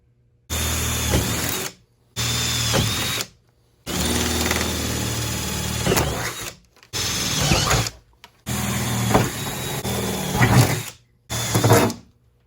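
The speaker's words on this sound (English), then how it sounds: "So I'm going to drill these out so we can go ahead and test fit the spoiler" Power drill boring holes in a 2014 Mustang's rear deck for a spoiler fitting, whirring in about seven bursts with short pauses, the pitch dipping and rising as the bit bites.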